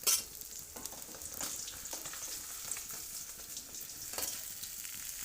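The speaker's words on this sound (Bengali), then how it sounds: "আর এক পিঠ উল্টে দিয়েছি, ভেজে নেব ভালো করে" Pabda fish fry in a pan after being turned, giving a soft, continuous sizzle with a few light stirring scrapes, fairly quiet and close.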